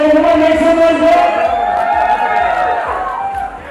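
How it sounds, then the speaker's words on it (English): A wedding reception audience cheers and yells loudly together, a dense, sustained crowd roar that fades slightly toward the end. "How many people cheering for you? Make some noise there."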